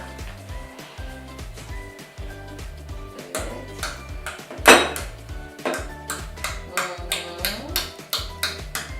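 Metal utensils clink and scrape against a pot while stirring shortbread ingredients with sugar, in a steady, repeated rhythm, with a low hum underneath and a few sharper knocks midway.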